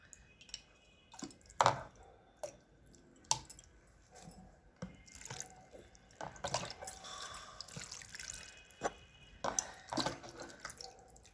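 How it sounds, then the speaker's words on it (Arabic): Water poured from a container into a glass jar for a beetroot pickling brine with salt, sugar and vinegar, giving soft intermittent drips, splashes and trickles at close range with no talking. "ودي الميه اللي انا عاملاها. هبدا املى البرطمان"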